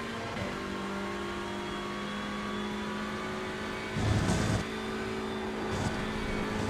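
Touring car engine from an iRacing TCR race at Spa, a steady drone that swells into a louder rush as another car closes in and passes, with a brief second surge near the end.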